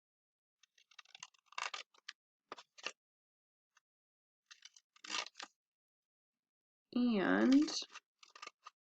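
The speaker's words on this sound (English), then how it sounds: "I'm going to take the ones that I folded and I'm going to cut them now." Scissors cut through folded paper squares, giving a few short, crisp snips separated by quiet gaps. A voice briefly speaks near the end.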